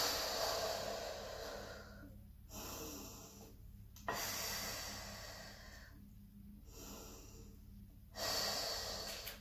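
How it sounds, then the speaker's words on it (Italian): Slow, deep breaths during a Pilates class, held for about three breath cycles: long airy inhales and exhales alternate with short quiet pauses, close and fairly soft, with no talking. "rimaniamo per 3 respiri."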